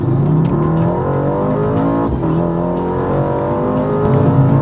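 Mercedes-AMG C63 S V8 engine rumbles loud and close with deep, layered exhaust tones, holding a steady throaty drone with brief dips and swells as the revs shift.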